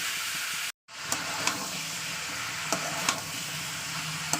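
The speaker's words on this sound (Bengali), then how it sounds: "ভালো করে আমি লাউ আলুটা কষিয়ে নেবো মশলার সঙ্গে" Bottle gourd and potato fry with spices in a pan with no water added, a steady sizzling hiss punctuated by occasional sharp clicks from stirring, broken by one brief dropout near the start.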